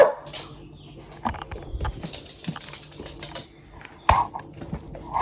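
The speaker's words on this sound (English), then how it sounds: "Don't you dare bark at me." Dogs at home give a few short barks and whimpers among sharp clattering and scuffling, moderately close, with brief loud bursts near the end.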